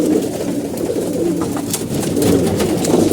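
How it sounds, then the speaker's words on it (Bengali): Several pigeons coo in low, rolling calls close by during feeding, with soft fluttering and shuffling. "আমাদের বিজার কবুতর আমরা খাবার দিয়ে দিচ্ছি"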